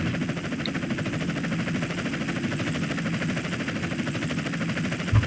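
A police helicopter chasing in GTA San Andreas gives a steady, even rotor drone that holds at constant loudness throughout, with no talk over it.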